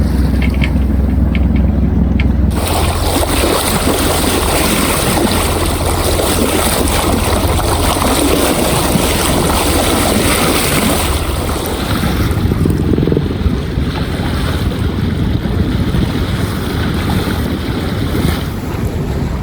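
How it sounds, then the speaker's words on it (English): A sailboat motors and half sails down the coast on a summer day, with a steady engine drone under loud gusting wind buffeting the microphone and waves washing along the hull. "we're just sort of motoring and half sailing down the coast"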